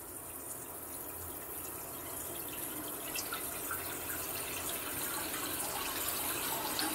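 Water runs steadily from a hose into an RV black water tank, a constant hissing, splashing flow that holds at an even level throughout with no voices.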